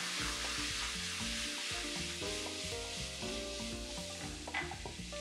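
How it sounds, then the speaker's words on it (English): Onions sauté in hot oil in a pan over medium-high heat, a steady sizzle with soft stirring scrapes, accompanied by background music throughout. "Then what we're going to do is we'll saute some onions."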